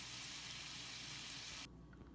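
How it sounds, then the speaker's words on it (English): Steady, faint sizzling of bacon frying in a pan, a soft hiss that drops to a quieter level near the end. "I'm also frying up bacon and it's supposed to be crispy."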